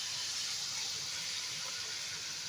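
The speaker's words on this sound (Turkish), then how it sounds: "Şimdi buna soğan ve sarımsak veriyorum." Onion and garlic tossed into frying beef saç kavurması in a pan, a loud, steady broadband sizzle and hiss that runs unbroken with no voices.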